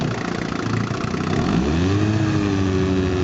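A 1955 Johnson QD-16 10hp outboard motor runs steadily and close, its droning note shifting and settling into a smooth, even hum partway through.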